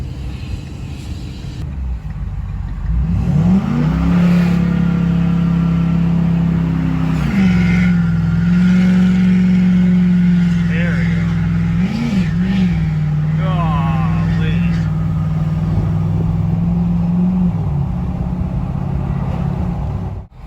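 A truck engine labouring in limp mode with a failing transmission, holding a loud, steady low drone close by for most of the stretch, with brief dips and rises in pitch, and a voice talking over it.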